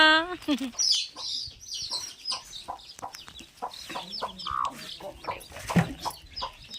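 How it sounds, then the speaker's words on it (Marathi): Chickens cluck and squawk close by in irregular bursts, with human voices talking and calling out over and between the birds. "म्हणजे कोंबडी कोंबडी"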